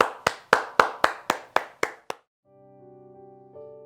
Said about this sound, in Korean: 우리 큰 영광의 박수로 함께 찬양하며 나가겠습니다.